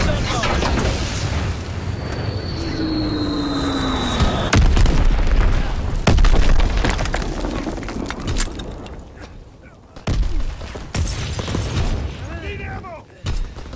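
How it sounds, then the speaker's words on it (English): Azon bomb explosions in the Call of Duty: WWII multiplayer battlefield, loud booming blasts and gunfire layered over a constant roar of combat, with voices calling out over the noise. "Azon bombing mission ready."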